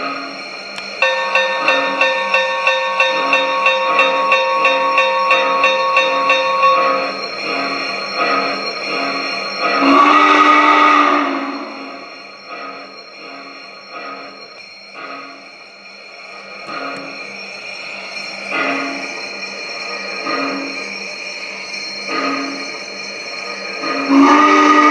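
A 1:32 scale MTH Challenger model steam locomotive, battery powered and wifi operated, sounds its bell in a rapid ringing run, then blows a loud whistle blast, followed by softer chuffing and further short whistle notes.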